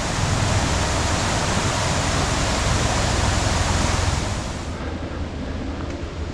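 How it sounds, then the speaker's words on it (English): Ripley Falls in Crawford Notch State Park, New Hampshire, heard as a loud, steady broadband rush of falling water close by, easing slightly in level near the end with no talking. "here is the flow from the waterfall"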